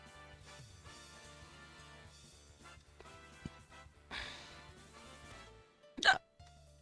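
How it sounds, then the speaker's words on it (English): A single sharp, painful hiccup bursts out loud and close near the end, over quiet background music. "That was a painful fucking hiccup."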